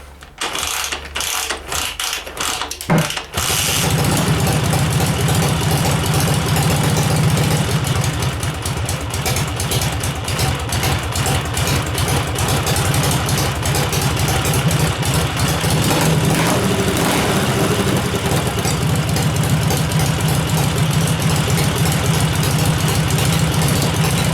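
A Dnipro 11 motorcycle engine starts for the first time after a few sputtering cranks, then settles into a loud, steady, rough idle with a mechanical clatter that runs on unbroken.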